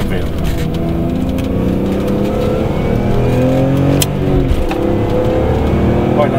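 BMW M3 E46 engine revving, a loud sustained drone with rising and falling harmonics, heard from close by with people talking over it.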